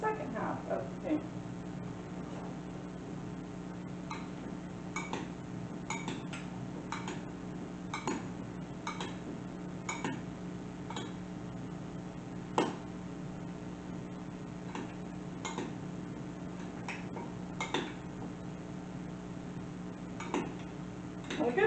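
Food being tossed and spread across a metal sheet pan for a small Thanksgiving dinner, with repeated light clinks and scrapes of a utensil against the pan, fairly quiet and irregular over a soft background hum.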